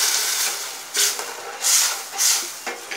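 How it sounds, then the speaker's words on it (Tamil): Tamarind water poured into a hot pan of sautéed masala for a ladies finger (okra) puli kulambu, giving several loud, close bursts of hissing steam and sizzle that swell and fade. "இப்போ நம்ம புளி விட்டுடலாம்"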